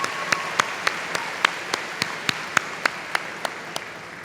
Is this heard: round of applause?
yes